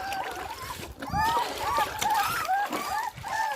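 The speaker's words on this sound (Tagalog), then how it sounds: "Paligo muna ako ng tuta." Water splashes and sloshes as puppies are bathed, with irregular splashes close by, mixed with whimpering, squeaky puppy cries and a person talking intermittently.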